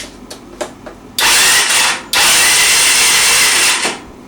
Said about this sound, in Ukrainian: Включаємо зажигання і крутимо.